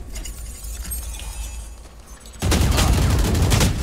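A Call of Duty Warzone-style shooter, with rapid gunfire that bursts out loud and dense midway and keeps going, after a quieter stretch of background game noise.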